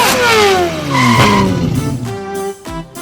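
A racer's cartoon super car roars in, its engine revving with falling pitch and tires squealing, loud and close, then trailing off into lighter effects.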